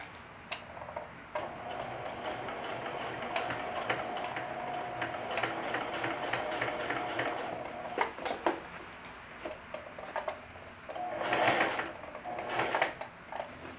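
A sewing machine stitches a seam on cloth for a back pocket, with steady rapid mechanical ticking and needle clatter, a few louder clicks and pauses as the presser foot is raised and the fabric pivots.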